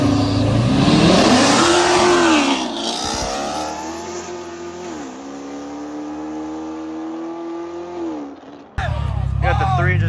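Cars racing in a street gathering, one of them a Toyota RAV4, with loud revving engines rising and falling in pitch and people talking over the noise.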